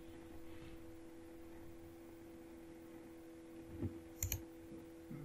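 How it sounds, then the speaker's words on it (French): A computer mouse clicks to start a download, a quick pair of faint, close clicks near the end over a quiet electrical hum. "On clique dessus pour lancer le téléchargement du TD."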